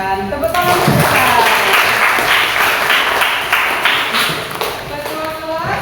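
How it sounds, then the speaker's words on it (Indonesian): A classroom full of high school students claps together, a dense, steady patter of hands that holds for several seconds before tapering off. "Tepuk tangan kita."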